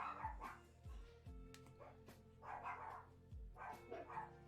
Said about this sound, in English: I don't know what the doggos are barking at